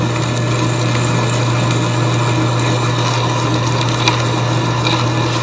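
Step drill bit boring into oiled metal on a 1970 Challenger repair for custom rotisserie mounts, a loud steady drill motor hum with grinding cutting noise, continuous and close, no talk.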